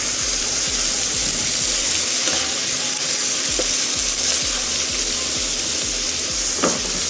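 Bitter gourd (ampalaya) and egg frying in a pan, giving a continuous loud close sizzle with a few faint clinks and scrapes, and no talking.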